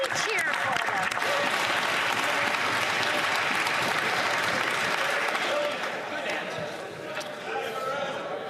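Members of Canada's House of Commons cheer and applaud during Question Period, a dense, steady roar of clapping and voices filling the chamber from start to finish, easing slightly near the end.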